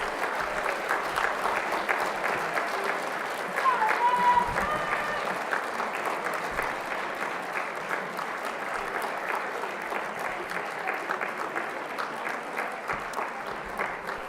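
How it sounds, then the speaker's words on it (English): A graduation ceremony audience applauds and cheers for the graduates' families, a dense, steady wash of clapping from a large crowd in a hall that holds for the whole stretch with a brief swell early on. "Stand and turn and see if you can see your family and give them a huge cheer"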